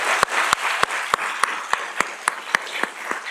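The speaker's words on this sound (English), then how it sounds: "Let's give a round of applause for that." An audience at a Yale engineering lecture event claps, a steady wash of applause punctuated by sharp, regular close claps about every quarter second.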